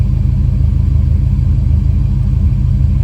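A 1986 Buick Regal with a big block engine and EFI idles down. It gives a loud, close, steady low rumble with an even pulsing beat and no talk over it.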